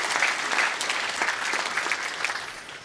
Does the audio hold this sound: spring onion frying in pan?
no